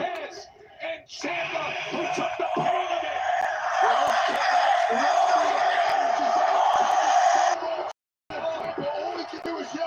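WWE Smackdown arena crowd roaring with yells and whoops in a sustained loud wall of noise, dipping briefly near the start and cutting out for a moment near the end.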